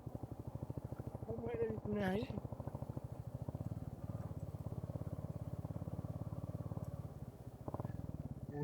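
A motorcycle ridden along a hometown road with a rattling chain at the rear, its steady engine drone running continuously close by while people talk over it.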